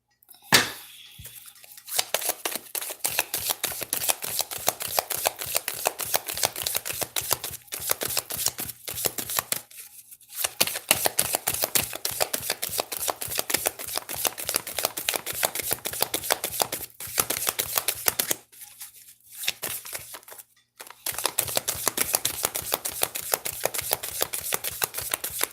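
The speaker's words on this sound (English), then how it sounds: "Let me get a tarot card." Tarot cards shuffled by hand in long repeated runs of rapid riffling flicks, close and crisp, with a few brief pauses between bursts and no talk.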